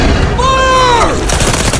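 A gunshot rings out in a monster film scene as a large alligator is shot while lunging from inside a tent, a loud close blast with a ringing, whistling tail that decays over about a second.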